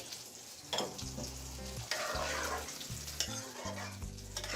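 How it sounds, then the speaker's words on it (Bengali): A pan of sautéed ash gourd for a prawn dish sizzles and gets stirred as light broth goes in, with bursts of frying hiss under a low tonal hum and clattering spoon strokes, close by, no voices. "এখন আমি হালকা ঝোল দিয়ে দিচ্ছি"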